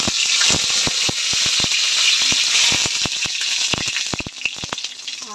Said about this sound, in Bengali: কড়াইতে অলরেডি তেল গরম হয়ে গেছে, আর আমি দুটো তিনটে তেজপাতা এখানে দিয়ে দেবো